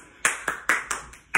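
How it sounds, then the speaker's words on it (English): Young children aged two to six clap in applause after a creative dance session, five or six distinct sharp claps spaced roughly evenly, near and fairly loud with no voices. "Give yourself a round of applause."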